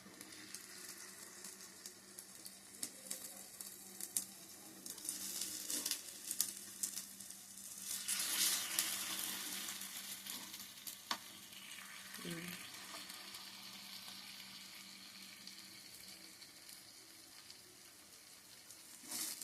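Sweet paniyaram batter sizzles steadily in a pan, a continuous close crackling fry with a brief louder stir or splash partway through, no voices.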